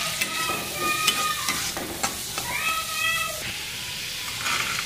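Beef being stir-fried in a pan, a steady sizzle and crackle with occasional scraping and stirring strokes, close and continuous, with brief faint voice.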